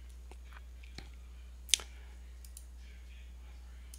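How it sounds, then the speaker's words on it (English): Computer mouse clicks while confirming a software settings dialog, a few sparse, faint clicks with one sharper click near the middle over a quiet low hum. "And now we're going to click OK."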